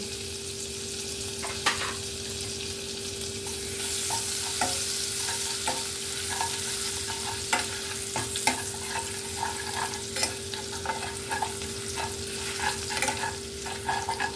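Crushed garlic fries in hot oil with cumin seeds, a steady close sizzle broken by frequent stirring clicks and scrapes, with no talking.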